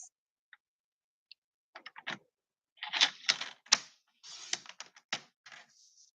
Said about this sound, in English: Just bring my trimmer back over.